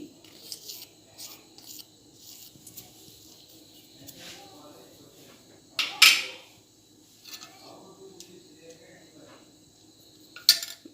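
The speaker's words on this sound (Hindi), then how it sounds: "अभी हम शक्कर पिघलने तक इसको ऐसा हिलाएंगे।" A spoon stirs khoa and sugar in a pan with soft, intermittent scraping, then two sharper metallic clinks, one in the middle and one near the end, in a fairly quiet kitchen.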